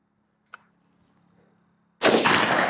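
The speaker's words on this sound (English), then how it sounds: "This is Smith & Wesson 500 Magnum." A Smith & Wesson 500 Magnum revolver fires at close range into a Battle Steel Level IIIA armor vest, giving one sudden, very loud boom that rings out after a faint click and near silence.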